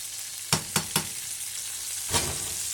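Sliced leeks dropped into hot olive oil in a sauté pan, with several sharp sizzling bursts over a constant loud frying hiss, close up and no talk.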